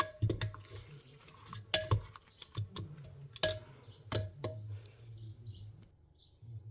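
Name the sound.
mixing lamb and apple casserole ingredients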